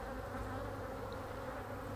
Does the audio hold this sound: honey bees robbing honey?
yes